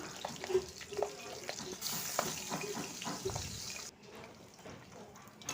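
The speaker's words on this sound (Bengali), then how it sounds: "কড়াইতে তেলটাও গরম হয়ে গেছে তো এখন মাছগুলো আমি সব ভেজে নেব" Marinated fish pieces fry in hot oil in a wok, giving a steady, close broadband sizzle that runs throughout and softens slightly toward the end.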